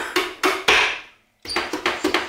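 A hammer strikes wood while a birdhouse is built, giving sharp, evenly spaced blows: three, then a brief pause, then a faster run of about six, loud and close with no talking.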